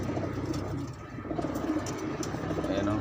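Pigeons coo in a freshly painted loft, a low murmuring burble that runs continuously beneath faint background noise, with no one speaking.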